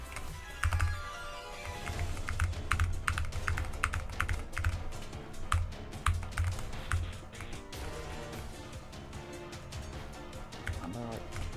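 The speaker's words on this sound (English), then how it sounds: "Ufin7 says I have this habit of just pressing random keys on my keyboard while in the middle of" Keys on a computer keyboard are pressed at random in rapid, irregular bursts of sharp clicks during gameplay, close and clear, while a person talks over the typing.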